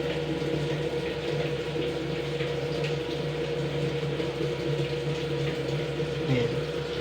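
A Whirlpool automatic washing machine that will not spin fills with water, giving a steady hum with rushing, trickling water that holds even and continuous throughout.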